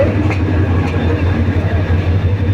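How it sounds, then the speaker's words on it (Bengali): A meter gauge passenger train with Iranian coaches, hauled by a 2900 series diesel locomotive, rumbles into a station platform. It makes a loud, steady low engine drone with a rolling rail hum close by. "আপনারা সকলেই দেখতে পাচ্ছেন ট্রেনটি 2900 সিরিয়ালের লোকো দ্বারা চালিত।"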